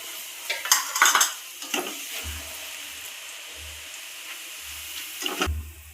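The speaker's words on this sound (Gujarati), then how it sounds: "એક વાટકો ચોખાના પૌવા લીધા છે એ પણ તળી લેશું." Rice flakes fry in oil in a kadai for a murmura chivda. Metal clatters and scrapes from stirring come up close at first, then give way to a faint, steady sizzle with occasional soft knocks, and no one speaks.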